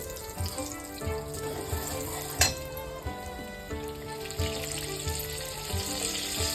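Urad dal tempering sizzles and crackles continuously in hot oil up close, with a sharp pop partway through and steady spattering throughout.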